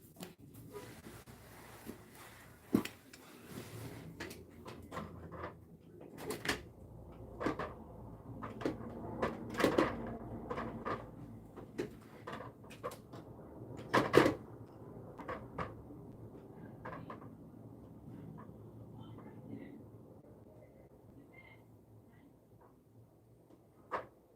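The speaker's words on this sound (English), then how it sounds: "let me crack this door real quick" A door is opened indoors with a string of clunks, knocks and rattles spread over the stretch, some sharp and some soft, in a quiet room with no talking.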